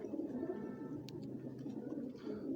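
A flock of about a hundred gola pigeons coos steadily and continuously, a dense, overlapping murmur of many birds close by.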